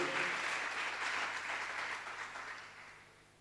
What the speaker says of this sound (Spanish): Denle un fuerte aplauso al Señor porque Él es justo y Él es todopoderoso.